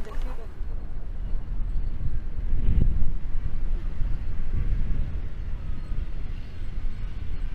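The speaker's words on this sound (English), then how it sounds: "The wind speed is at 35 kilometers an hour" Steady wind blustering across an outdoor football pitch during a match, a low continuous rumble buffeting the microphone with slight gusty swells, while a commentator talks over it.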